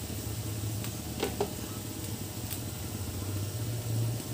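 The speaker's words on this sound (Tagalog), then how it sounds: "Kumukulo na siya." Squid adobo bubbles and simmers in a pan, making a continuous soft sizzling, boiling hiss with a few brief clinks, steady and close with no talking.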